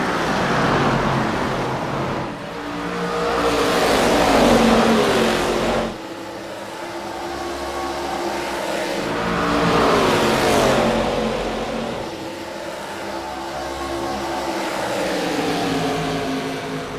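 ARCA stock cars racing at Iowa, a loud pack of engines roaring down the back straightaway in swelling, fading passes that surge about every five to six seconds, with continuous track noise between them.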